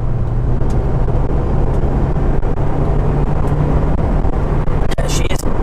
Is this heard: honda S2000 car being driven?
yes